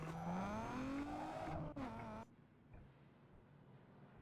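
Game car engine from Need for Speed Underground 2, a loud rising whine with gear-change dips for about two seconds before cutting off abruptly, leaving a faint low background hum.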